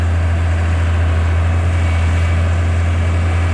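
Old Kobelco SK200-1 excavator diesel engine running close by, a steady, loud low hum with a constant droning tone and no other sounds.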